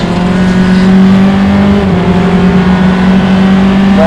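A single-seater race car runs down the front straightaway at a club circuit race, its engine a loud, close, sustained drone that holds steady throughout with no voices.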